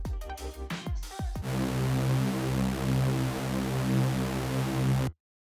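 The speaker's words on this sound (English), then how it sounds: "So just a very basic saw wave, and then again we filter out all of the high frequencies" A basic synthesizer saw wave with its high frequencies filtered out sounds as a sustained, dark, buzzing low tone for several seconds after a few short clipped notes, then stops abruptly.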